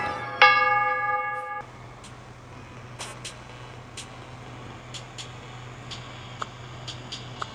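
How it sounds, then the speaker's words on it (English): Church bells in the video game Dentures & Demons ring out loudly with rich sustained tones for about a second, then cut off, leaving a faint hum and scattered soft ticks. "The bells are drowning out any other sound."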